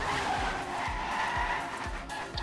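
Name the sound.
race car crashing and skidding in Trackmania video game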